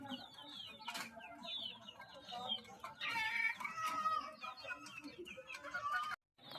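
Desi chickens cluck and call inside a coop, several overlapping birds near and far giving clucks and rising squawks, with a louder burst of calls in the middle and a short pause near the end.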